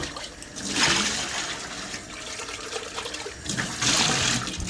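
Running water rinses and washes something off under a tap, a steady splashing flow that surges louder twice, close by with no talking.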